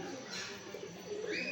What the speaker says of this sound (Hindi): ये ज़ीरा दबास कबूतर है